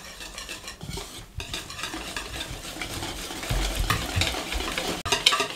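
A hand beater whisks flour into beaten eggs for an omelette batter, a quick continuous scraping and clattering against the bowl, close and fairly quiet, with a few sharper knocks.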